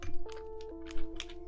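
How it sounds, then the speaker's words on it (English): Clacky typewriter keystrokes from the name-entry screen of the Goosebumps video game, several sharp separate taps over a steady background music drone, with no voices. "Oh, it's got typewriter noise."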